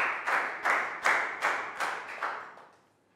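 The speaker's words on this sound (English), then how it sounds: "Big round of applause for Pak Boong." A Year 3 class claps together in unison for a classmate, six or so evenly spaced group claps in a steady rhythm that fade away at the end.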